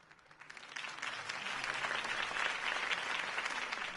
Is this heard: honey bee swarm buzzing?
no